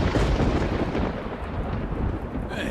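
Deep rolling thunder from lightning in a stormy scene of the game Blacksad: Under the Skin, a loud continuous rumble filling the whole moment, with no speech.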